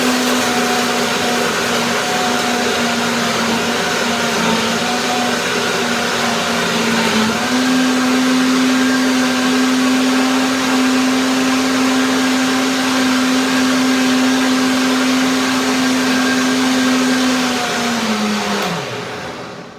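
A blender whirs steadily as it purees mangoes, orange juice and cashews. Its loud, continuous motor drone shifts slightly in pitch partway through, then winds down at the end, and no one speaks over it.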